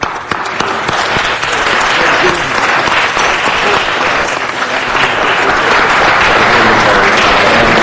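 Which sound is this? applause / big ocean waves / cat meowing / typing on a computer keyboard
applause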